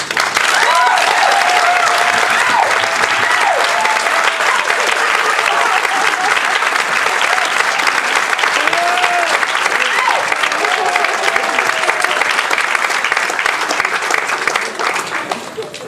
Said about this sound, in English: If y'all can just clap your hands.